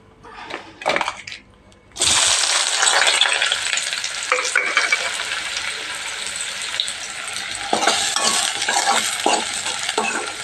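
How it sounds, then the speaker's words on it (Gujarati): Chopped onion, green chili, coriander and ginger-garlic paste hit a hot pan with a sudden loud sizzle that keeps crackling steadily, with occasional stirring scrapes, after a few soft handling noises. "હવે મસાલો ફ્રાય કરી લઈએ"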